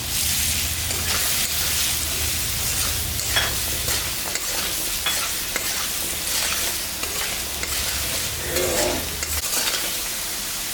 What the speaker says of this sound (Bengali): আলুটা ভাজা ভাজা হয়ে গেছে, এখন আমি লবণ হলুদটা দিয়ে দিই।